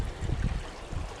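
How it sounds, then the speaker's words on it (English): Water in a shallow urban creek runs swiftly, a soft low rushing and gurgling close by, fluctuating gently with no voices. "The water's moving a little swifter than I thought"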